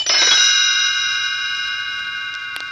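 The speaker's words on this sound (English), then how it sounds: "You will know it is time to turn the page when Tinker Bell rings her little bells like this." Small chiming bells ring once as a page-turn cue for a read-along storybook, a bright shimmering strike that fades slowly, clear and alone with no talk.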